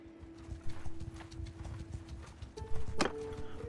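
Horse hooves clip-clop in a steady riding rhythm in Mount & Blade 2 Bannerlord, close and moderately loud over a constant hum, with a brief sharp burst near the end.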